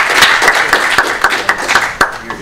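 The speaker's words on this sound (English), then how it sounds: "let's give him a round of applause" Round of applause for a guest speaker at a Python and Django meetup; loud, close clapping from a small crowd with distinct individual claps standing out, fading slightly toward the end.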